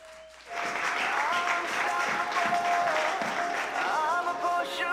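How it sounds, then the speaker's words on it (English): An audience at a Primal Rage wrestling event breaks into applause after a brief tone, a steady wash of clapping from a crowd holding for several seconds with scattered whoops, fairly loud and close. "Give him a round of applause, ladies and gentlemen."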